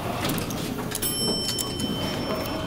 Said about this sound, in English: Instant door closed, I like that.